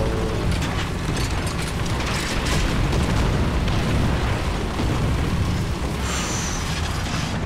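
Tank gunfire in the War Thunder video game, firing blind with a small-calibre gun, dense booming blasts and mechanical clatter filling the whole stretch at a loud, continuous level.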